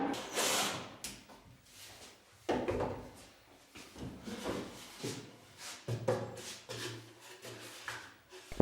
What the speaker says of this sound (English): Mark and cut the drawer bottoms to size, slide them in, and screw them down.